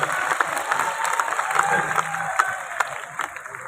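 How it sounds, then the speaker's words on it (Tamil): Audience clapping at a BJP consultation meeting at SRM college in Chennai, a dense, sustained round of applause from a hall crowd with faint voices mixed in. "கொஞ்சம் நல்லா உற்சாகமாக கைதட்ட வேண்டும்"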